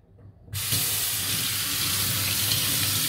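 A kitchen water tap bursts on after a brief quiet and runs in a strong, steady hiss and splash while blueberries are washed for a blue milk drink, loud and close with no talking.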